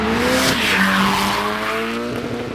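Race cars drive flat out on a tree-lined circuit, trailing tire smoke. Loud, continuous engine roar and tire squeal fill the whole stretch, with pitch sweeping as the cars pass close by.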